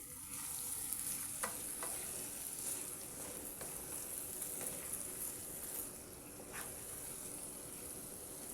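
Chopped spinach is stirred through a hot pan for palakura ullikaram, a soft continuous sizzle with light scraping and a few clinks of the spoon, fairly quiet and without talk.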